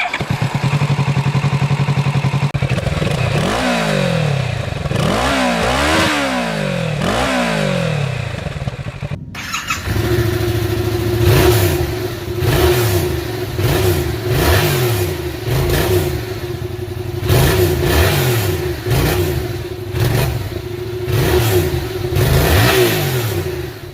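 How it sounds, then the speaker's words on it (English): Stock exhausts of a Kawasaki Z650RS and a Yamaha XSR700, middleweight retro motorcycles, revved one after the other. Each delivers a string of loud, close blips rising and falling over a steady idle, with no talking. "Let's also have a quick listen to the stock exhausts of each."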